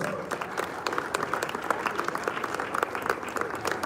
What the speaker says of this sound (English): A round of applause for him as he comes on stage.